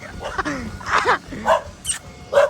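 Several street dogs bark and yip in short bursts at varying distances, with a whimper mixed in and no talking over them.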